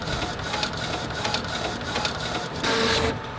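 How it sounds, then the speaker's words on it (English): A Sawgrass sublimation printer runs steadily, its print head shuttling with soft rhythmic mechanical whirring and a brief louder surge near the end, heard close with no talking. "now I'm gonna send this over to my Sawgrass printer"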